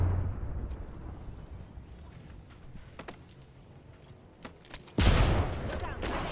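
Grenade blasts and gunfire from a video game battle: a steady rumble of distant shooting and small pops, then a loud close explosion bursts in near the end and lingers as a broad roar.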